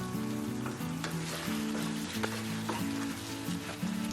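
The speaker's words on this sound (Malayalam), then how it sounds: "അല്പനേരം കൂടി ഇത് ഹൈ ഫ്ലെയിമിൽ ഇടയ്ക്കിടയ്ക്ക് ഇളക്കി ഒന്ന് ഡ്രൈ ആക്കി എടുക്കാൻ പോവാണ്" Kerala-style pepper chicken roasts dry on a high flame, a continuous crackling sizzle with occasional spoon knocks as it is stirred. A steady low droning hum lies beneath, and no one talks.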